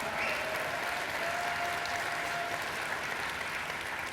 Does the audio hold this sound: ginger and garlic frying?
no